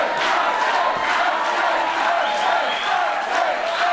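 A wrestling crowd packs Festsaal Kreuzberg at a GWF Mystery Mayhem 2022 show, cheering and shouting loudly and continuously throughout.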